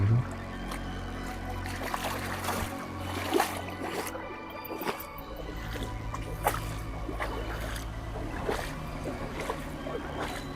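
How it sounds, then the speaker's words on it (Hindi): Fast river water rushes and gurgles close by, a steady flowing wash with scattered splashes and trickles over a low rumble, plus occasional soft thumps. "पानी देखिए कैसे बह रहा है। हाँ ये क्या है? तेज है पानी इधर से।"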